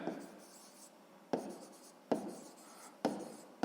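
Pen writing out a sixth-grade math solution on paper, heard as close scratchy strokes in three or four bursts, each starting with a sharp tap, with no talk.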